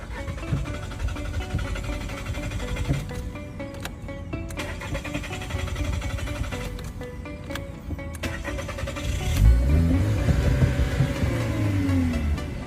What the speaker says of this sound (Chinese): 我现在打火